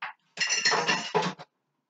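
Heavy glass mason jar set down in a sink, a short clink followed by a longer ringing clatter of glass on the basin and a final smaller knock, close and alone.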